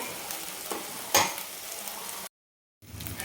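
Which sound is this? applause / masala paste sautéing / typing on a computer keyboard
masala paste sautéing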